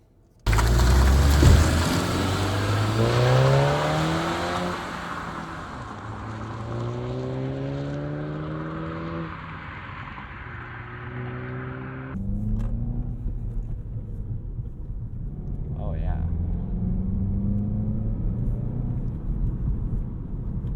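A 2020 Volkswagen Golf GTI accelerates hard through several gears in sport mode, the engine note rising and dropping with each shift, heard from inside with a steady road rumble underneath.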